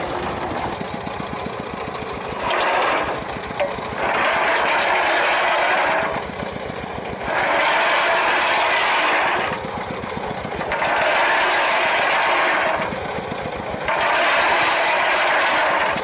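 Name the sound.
engine-driven ball mill crushing gold ore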